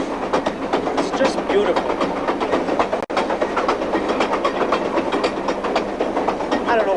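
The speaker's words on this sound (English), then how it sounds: "I don't know what it is, the sound, the feel, the smell even of the diesel locomotive" A diesel locomotive train rolls along the rails with steady clickety-clack and a continuous loud rumble, a brief dropout partway through, and a voice speaking over it.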